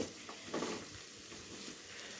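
A spoon scrapes and stirs through rice in a pan, soft irregular scraping over a faint background sizzle, close and quiet.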